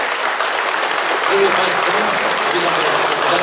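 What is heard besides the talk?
audience applause welcoming gallery director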